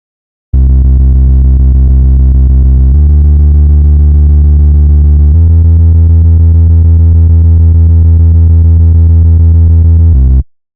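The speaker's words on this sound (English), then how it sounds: "Then, add a sub-bass for extra low-end punch." Synthwave sub-bass made in FL Studio Mobile, a deep sustained synth tone holding three long notes that shift pitch, loud and steady, cutting off abruptly at the end.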